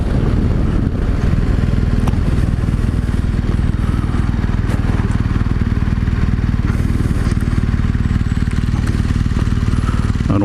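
A BMW 1200 GSA motorcycle being ridden, its engine droning loud and steady and close throughout, with rough clattering mechanical texture and wind noise.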